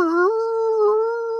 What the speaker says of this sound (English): Like a wolf howl kind of noise, or somebody sounding like about maybe 5 wolves